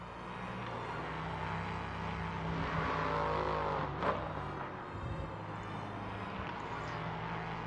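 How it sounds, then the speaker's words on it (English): Nissan V8 engines of LMP3 race cars at the Barcelona circuit drone loudly and steadily throughout, with a brief sharper surge as a car passes close by near the middle. "let's listen to these Nissan Armada engine V8s while we're at it"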